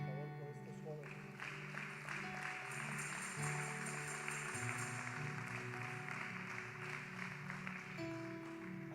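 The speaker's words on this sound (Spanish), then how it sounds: "Un aplauso a Dios, por favor, por estos jóvenes." A church congregation applauds during a sermon, sustained clapping from the crowd under organ or keyboard chords and a voice speaking over it.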